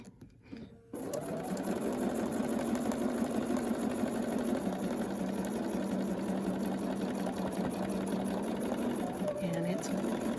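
A sewing machine runs steadily through quilt fabric, a close, continuous rapid mechanical hum lasting several seconds after a brief start, with a voice talking over it.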